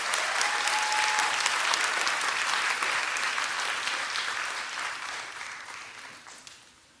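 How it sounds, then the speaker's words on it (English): A graduation crowd at a nursing college ceremony gives sustained applause, a dense hall-wide clapping that stays full for several seconds before gradually thinning and fading out. "Let's give them a round of applause."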